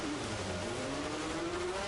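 A race car exits the pits in a racing video game, a brief, fairly quiet engine tone that climbs slowly in pitch as it pulls away.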